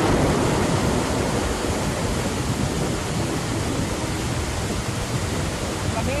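Steady, dense broadband hiss of heavy typhoon rain pouring down close by in Bangkok fills the whole stretch without a break, with no voices over it.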